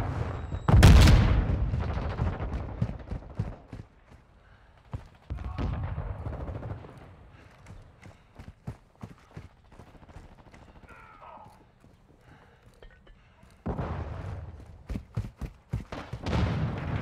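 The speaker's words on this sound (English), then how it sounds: "Throwing flash grenade. Semtex out." Gunfire and grenade blasts from a Modern Warfare II Team Deathmatch match on the Mercado Las Almas map. A loud blast comes near the start, followed by bursts of rapid shots and sharp cracks, with another loud volley near the end.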